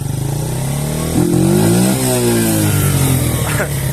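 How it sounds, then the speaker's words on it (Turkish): Mondial SFC 50 Mini 100cc motorcycle engine revving near the microphone, a steady idle climbing into a rising throttle blip that holds high, then easing back toward idle. "Sana da böyle gaz tepkimesini dinletmiş olayım."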